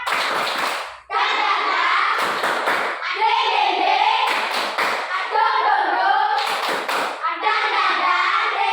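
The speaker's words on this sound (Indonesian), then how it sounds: "Kalau gitu kita tepuk semangat terlebih dahulu." A classroom of children performs a rhythmic spirit clap, with patterned bursts of hand claps alternating with chanted voices. The sound is loud and close.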